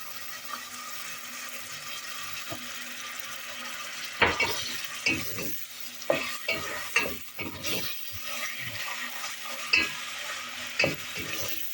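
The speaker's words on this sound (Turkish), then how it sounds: "Yağla da birlikte biraz kavrulacak etlerimiz." Pieces of meat for a pea stew sauté in oil in a pot. A continuous sizzle runs beneath repeated scraping and stirring strokes that come in a quick, uneven burst from the middle onward.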